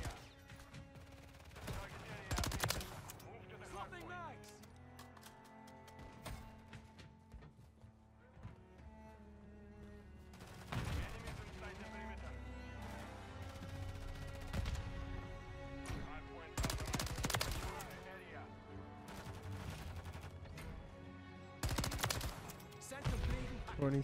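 Rapid automatic gunfire bursts from a loadout in Call of Duty Modern Warfare 3, with dense overlapping shots and explosive cracks in several loud clusters throughout, over ongoing game noise and a talking voice.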